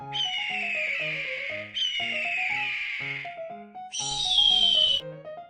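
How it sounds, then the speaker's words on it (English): An eagle's high-pitched screeching call comes in three drawn-out, falling cries over a steady low tonal background, loud and close. "Eagle, high-pitched, screeching call."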